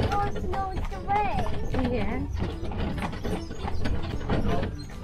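Horse hooves clip-clop steadily at a walking pace as the horse pulls a jaunting car through Killarney, close and fairly loud, with mechanical creaks and rattles from the cart and people talking throughout.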